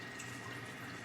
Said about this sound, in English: I'm just draining out my red peppers and just pouring the jar right into